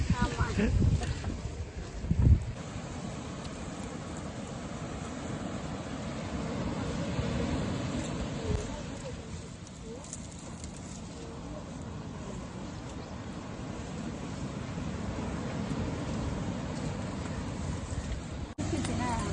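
Wind on a beach blows steadily against the microphone in a broad, rumbling rush. It stays loud throughout with a couple of stronger gusts early on, while an outdoor stove is being lit for cooking fish curry.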